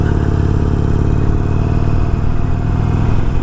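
A Harley-Davidson Sportster 883 motorcycle engine runs steadily, a loud, close, low lumpy rumble with a mechanical rhythmic throb and no pauses, heard alone without speech.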